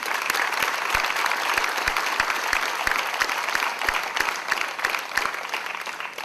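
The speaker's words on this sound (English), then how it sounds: "Let's give applause to those who serve." Parade crowd at a July Fourth event in Morgantown, West Virginia, applauding veterans with steady, dense clapping that holds evenly throughout, with a few sharper claps standing out.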